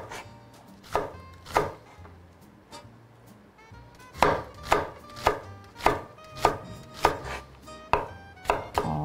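A knife chops cucumber into strips on a cutting board, with a few separate cuts and then a quick, steady run of crisp, close chops.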